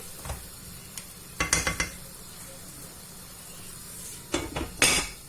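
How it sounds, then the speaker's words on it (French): Food is stirred in a covered pot with a utensil, giving a few sharp clinks and scrapes in two short bursts over a quiet, low simmer. "Je vais mélanger bien comme il faut."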